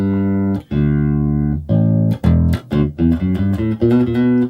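Sustained bass guitar notes through a Zoom B1on multi-effects unit in tuner mode ring out clean and loud, a few long held tones followed by a run of shorter plucked notes, with effects bypassed.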